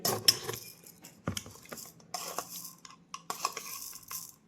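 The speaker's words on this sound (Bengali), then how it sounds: "2 চামচ চাল নিয়ে নিলাম" Metal spoon scraping and clinking against a steel pot or bowl while two spoonfuls of rice are scooped during cooking, a run of short close rattles and taps with brief pauses, no talk.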